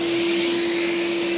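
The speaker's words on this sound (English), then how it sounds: "I'm gonna vacuum those out really quick" A vacuum cleaner sucks drill filings out of freshly drilled bolt holes on a snowblower impeller. It runs as a loud, steady, close whine with a constant hum throughout.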